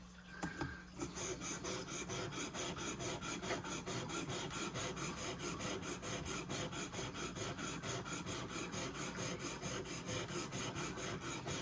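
A traditional pocket knife blade being sharpened on a Worksharp Precision Pro, with steady, continuous rasping strokes of steel across the abrasive repeating evenly at close range, loud and alone throughout.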